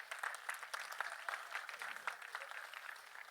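Faint, distant applause fills a theatre at the Adipurush trailer launch, a soft, even patter of many hands continuing steadily throughout without voices.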